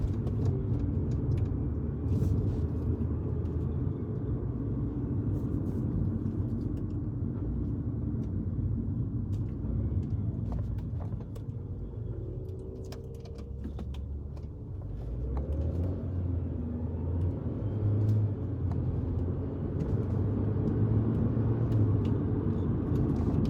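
A BMW X5 M with a 4.4-liter twin-turbo V8 drives along, its low engine rumble and road roar steady from inside the cabin. The note dips midway and then builds again, with no talk.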